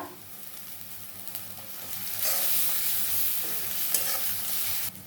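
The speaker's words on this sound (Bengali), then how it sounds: "জিরে আর ধনে একসাথে দিয়ে দিলাম একটু এটাকে দিয়ে খুব ভালো করে কষিয়ে নেব" Cumin and coriander stir-fried in a pan for a Bengali fish curry, a continuous sizzle that swells louder midway, with light scraping of the spatula.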